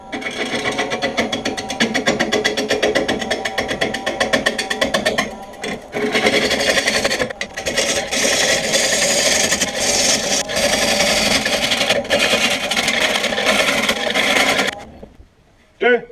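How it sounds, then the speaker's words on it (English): A 5/8 bowl gouge with an Ellsworth grind cutting an American elm bowl on a wood lathe at slow speed, a loud continuous rough scraping whir with brief dips, stopping near the end. "I'm going to turn this down with a 5/8 bowl gouge with a Ellsworth grind on it"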